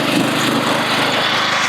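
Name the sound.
lawn mower running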